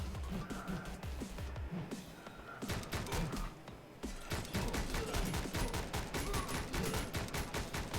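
Rapid gunfire in the side-scrolling shooter Speed Limit: steady, loud volleys of shots with brief pauses, over a thumping game soundtrack.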